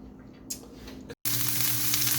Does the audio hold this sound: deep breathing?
no